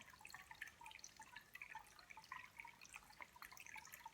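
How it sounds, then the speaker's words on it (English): Faint, steady trickling water with soft, irregular drips in a calm guided-meditation setting, gentle and continuous with no voices. "Hear the sound of the water trickling."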